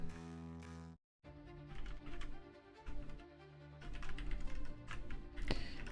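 Fingers typing on a computer keyboard, quick irregular clacking bursts of keys with a brief pause near the start, close and fairly quiet.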